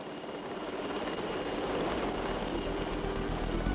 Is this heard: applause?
no